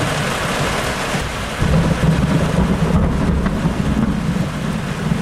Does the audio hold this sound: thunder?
yes